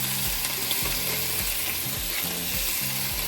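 Slices of mozzarella laid onto sirloin in a hot pan for a sandwich, the meat sizzling and frying loudly and steadily throughout, with an electrical hum running underneath.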